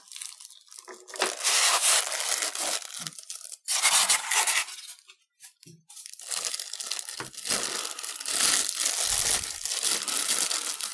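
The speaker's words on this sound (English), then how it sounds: "They do wrap these in plastic." Plastic wrapping is torn and crumpled off a miniature model of a stone farm house or stucco townhouse, with close, loud bursts of crinkling and ripping broken by short pauses.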